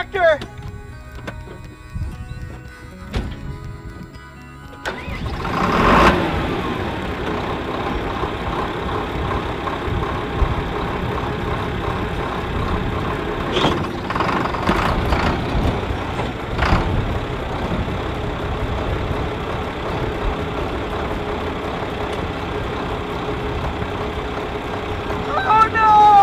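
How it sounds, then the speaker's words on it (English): A John Deere tractor engine runs steadily for most of the stretch, a loud continuous rumble with clunks and rattles, after a quieter opening with people talking. "I'm gonna drive the tractor."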